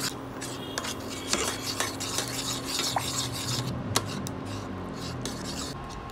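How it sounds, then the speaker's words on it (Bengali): A spoon stirring a garlic, butter and egg pasta sauce, with repeated scraping, tapping and clinks against the pan over a faint sizzle, close and irregular. "এটাকে পরে খুব ভালো করে একটা চামচ বা খুন্তির সাথে খুব সহজে নেড়ে নেড়ে যদি মিশিয়ে দেওয়া যায়"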